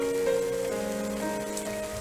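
Rain falling in a video game, a steady loud hiss of drops on surfaces with a tonal music bed running underneath, no voices.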